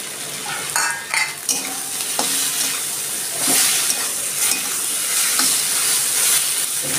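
Hilsa fish head frying in a pan with turmeric, a loud continuous sizzle broken by scraping stirs and clinks of the spatula.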